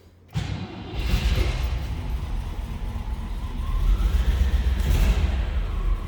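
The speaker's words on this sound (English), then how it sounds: "Let's go ahead and fire this up so you can hear it run." A 1957 Cadillac Eldorado Biarritz engine cranks and catches with a thud, then settles into a loud, steady low rumble that swells slightly as it keeps running.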